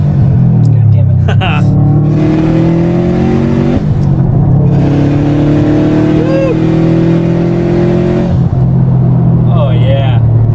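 Turbocharged Subaru STI with a small stock turbo accelerating hard from first gear, engine rising in pitch through each gear with brief shift dips, loud and close inside the cabin while people talk over it.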